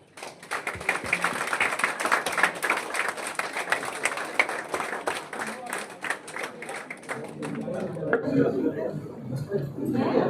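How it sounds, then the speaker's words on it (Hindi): Audience applause and cheering at a coaching institute celebration event, dense clapping filling most of the clip before thinning out toward the end, with crowd chatter mixed in. "जोरदार तालियां।"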